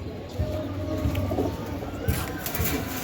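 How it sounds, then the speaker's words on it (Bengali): A pair of pigeons coo in low, rolling murmurs close by, with steady background bird noise and a faint voice now and then. "এই এক পেয়ার কবুতর দেখেন"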